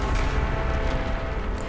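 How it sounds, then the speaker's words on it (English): A thundering explosion with a sharp ear-splitting pop in the video game Reverse: 1999, heard as a dense, loud, sustained rumble of booming blasts for nearly two seconds with no speech. "There's a sudden ear-splitting pop, following a thundering explosion."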